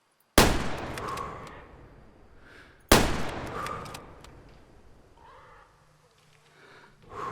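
Two loud, sharp gunshots ring out about two and a half seconds apart in the hunting game Way of the Hunter, each trailing off into a long echoing decay, with faint ambient outdoor sound afterward.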